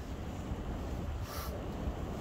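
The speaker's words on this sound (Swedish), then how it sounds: "Jävlar vad det blåser, jag kan inte ens hålla i." Strong wind buffets the microphone on a stormy golf course, a constant heavy low rumble and roar with no talk.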